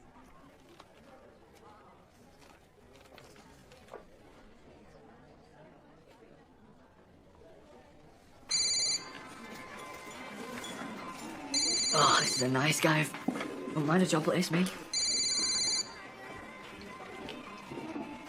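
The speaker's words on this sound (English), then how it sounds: "Are you aware that the phone is ringing?" After a quiet stretch of murmured talk, a telephone starts ringing in loud repeated trilling bursts while people chat and speak over it in an indoor room.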